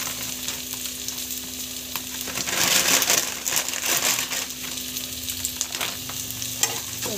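Whole spices and a bay leaf sauté in hot oil for biryani, a close crackling sizzle with a scraping stir that swells in the middle, plus a steady low hum underneath.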